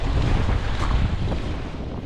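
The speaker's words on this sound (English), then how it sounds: "This end of the reservoir was getting battered by the wind" Strong wind batters a reservoir, roaring steadily into the microphone with gusting rumble and a washing, surf-like noise throughout, no voices.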